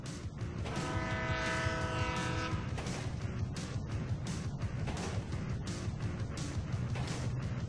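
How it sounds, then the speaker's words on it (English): Train passing in the video game GTA V, a continuous rumbling clatter of rail cars with a sustained horn blast early on, fairly close and steady throughout. "Train ain't stopping here"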